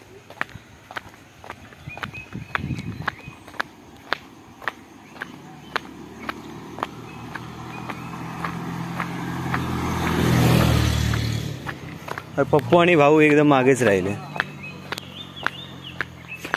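Footsteps of people walking on a village road at evening, a steady run of sharp, evenly spaced steps close by, with a motor vehicle swelling past in the middle and voices talking near the end.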